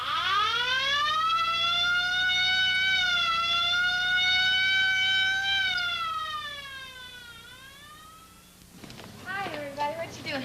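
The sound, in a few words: ambulance siren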